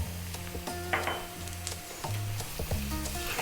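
Onions frying with garlic ginger paste in a pan for a mushroom potato curry, stirred with scraping strokes over a steady close sizzle, with a few clinks against the pan and a low hum beneath.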